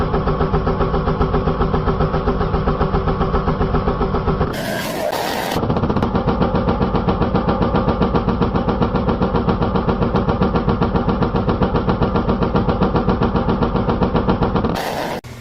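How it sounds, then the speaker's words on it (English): Surfacing machine cutting a Subaru cylinder head, a loud steady mechanical drone with a rapid rhythmic chatter that breaks off briefly near the middle before resuming. "Let me surface that head."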